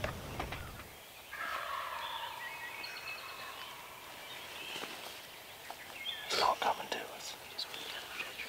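Wild turkey gobbling during a spring bow hunt, a faint distant gobble rising out of quiet outdoor ambience with hushed whispering, then a louder burst of calling near the end.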